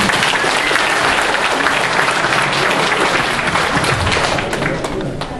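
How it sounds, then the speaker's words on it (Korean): Loud, steady applause from a large audience, continuous throughout and easing slightly toward the end. "다시 박수를 부탁드립니다"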